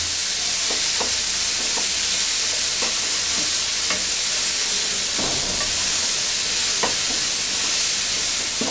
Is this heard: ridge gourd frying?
yes